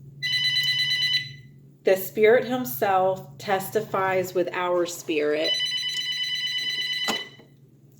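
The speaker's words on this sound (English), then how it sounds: "I had a phone call coming in" A telephone rings with an incoming call: a high electronic trill runs at the start, then a woman's speech breaks in and cuts it off, and the ring returns afterward, steady and fairly loud.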